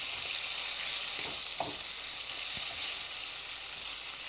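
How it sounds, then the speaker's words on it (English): Shrimp fry in butter in a pan with a continuous, close, moderately loud sizzle and a couple of faint stirring knocks, with no talking. "Just cook the shrimp for about 3 minutes"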